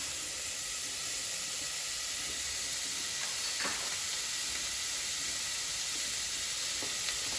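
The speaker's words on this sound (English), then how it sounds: "and our diced bacon, and we're going to cook those up" Diced bacon with celery fries in a pan with a steady, even sizzling hiss throughout and a few faint ticks and pops, heard close and alone without speech.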